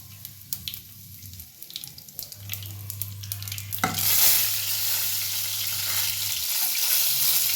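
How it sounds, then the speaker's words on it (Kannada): Mustard seeds spluttering in hot oil for a palak curry, giving a steady frying sizzle with scattered pops, rising to a louder hiss midway, alongside a low continuous hum from a kitchen appliance. "ಸಾಸಿವೆ ಚೆನ್ನಾಗಿ ಸಿಡಿಬೇಕು ಸಿಡಿ ಸ್ಟಾರ್ಟ್ ಆಯಿತು ನೋಡಿ"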